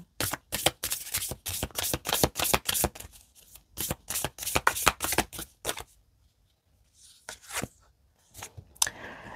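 A deck of oracle cards shuffled by hand in quick, rhythmic rustling bursts, close and crisp, then a pause before a few scattered slaps and flutters of the cards.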